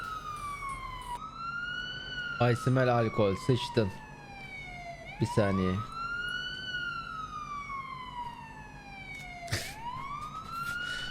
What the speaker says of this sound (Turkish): ambulansa yol açalım.